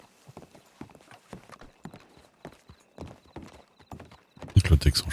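Horse hooves clip-clop in a steady, uneven walking rhythm at close range, ending with a louder burst of movement and snorting.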